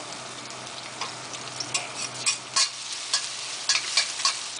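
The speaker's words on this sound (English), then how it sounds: "You want to hear it sizzle when you go in." Thai curry paste sizzling in hot oil for holy basil chicken while being stirred, soft steady frying hiss with scraping stir strokes, close and moderately quiet; one brief word spoken.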